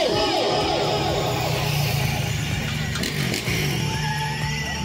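Motorcycle revving and accelerating loudly for a stunt at a bike meet in Bertioga, engine pitch climbing and wavering amid a noisy crowd with voices and other engines around.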